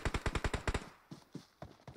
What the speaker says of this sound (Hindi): पीछे से भी गोलियां चल रही